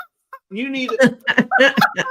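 Domestic chickens clucking and squawking in a backyard flock, a lively run of short, overlapping calls close by, loud and busy after a brief quiet start.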